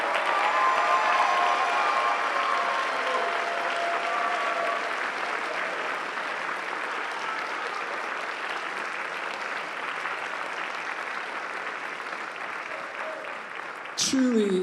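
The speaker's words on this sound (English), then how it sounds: "Let's applaud our seniors." An audience applauds graduating seniors at a high school spring band concert, with sustained, dense clapping from a large crowd filling the hall at steady volume for the whole stretch before it cuts off abruptly near the end.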